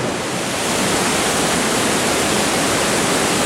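A waterfall pours into a deep rocky gorge, a dense, unbroken broadband roar that stays loud and steady throughout, close up, with no voices.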